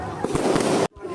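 Firecrackers burst in a quick cluster of sharp cracks, loud and close, during a school trip to Kodaikanal, ending abruptly.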